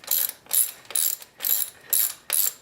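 Ratchet turning a T30 Torx bolt on a BMW N20 engine: six quick, close clicking bursts in an even back-and-forth rhythm.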